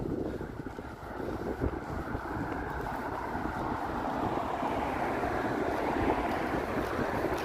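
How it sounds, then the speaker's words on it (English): Steady wind gusting and rushing along a city street on Davenport Road in Toronto, a continuous broadband roar with some microphone buffeting, fairly constant and without talk. "Comes the wind again."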